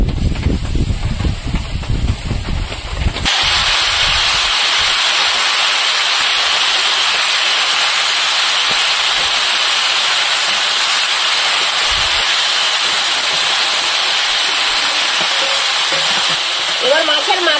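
Ash gourd pieces drop into hot oil with five-spice and chopped onion and set off a loud, steady sizzle. The hiss continues close by for the rest of the clip, after a few seconds of clattering at the start.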